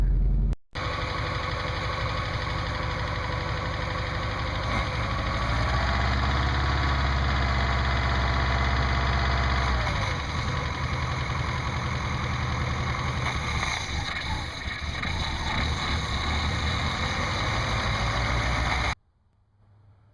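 A warmed-up Fiat engine idles steadily while Seafoam is burned through it to push out old gas, a continuous close rumble with faint mechanical ticking that holds for nearly twenty seconds before cutting off abruptly.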